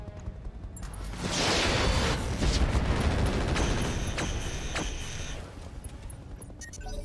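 Inferno SRM missiles launch in RogueTech, a volley of whooshing rocket bursts and rumbling blasts swelling loudly for a few seconds over battle noise before tapering off.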